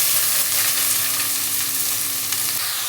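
Onions sauté in hot oil in a pan for a chicken and fenugreek-leaf curry, giving a loud, steady, close sizzle with faint stirring and no voices.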